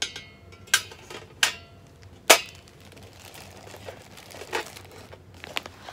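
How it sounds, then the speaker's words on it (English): Plastic packaging around a thrifted vintage embroidery item crinkles up close in a few sharp bursts, with quieter rustling between them. "Now you hear a bit of crinkling until I get this out."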